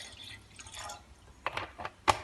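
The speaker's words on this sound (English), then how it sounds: "we're going to pour this vinegar inside this pot" Vinegar poured into a pot for a backyard hot ice pack experiment, soft liquid trickling and splashing followed by a few distinct drips and splatters, quiet and close.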